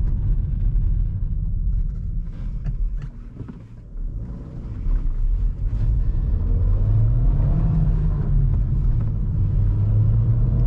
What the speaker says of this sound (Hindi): एक बार पहले गियर में पिक करके देखता हूँ थोड़ा सा क्या कुछ फील हो रहा है।